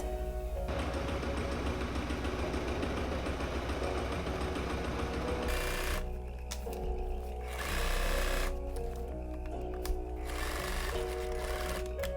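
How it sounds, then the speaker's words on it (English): A sewing machine runs steadily, top stitching a faux leather and rope tote bag, with a sustained mechanical whir that pauses and restarts in short bursts toward the end. "So I'm going to measure my 10 centimeters and sew it."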